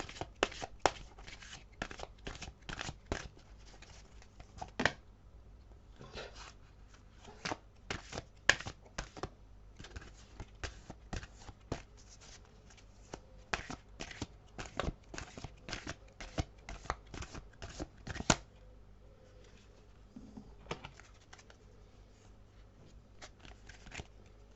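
Tarot cards being shuffled close up, a long run of quick, soft riffling flutters in repeated bursts with brief pauses, faint and alone with no talk.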